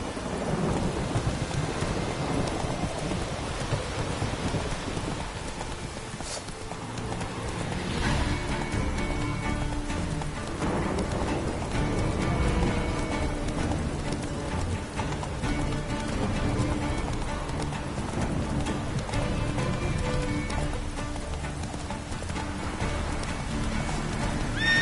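Horse hooves galloping through a rainy thunderstorm in the video game Witcher 3, steady rain and rumbling thunder filling the scene with dense, continuous clip-clop underneath.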